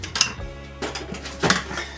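Short clatters and scrapes as a spatula works carrot cake batter out of a bowl into a greased, lined tin, three brief utensil knocks on the bowl without speech.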